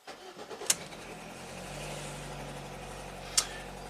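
A Ford EcoBoost van engine cranks and catches, then settles into a low steady idle, recorded from inside at moderate level with a couple of sharp clicks.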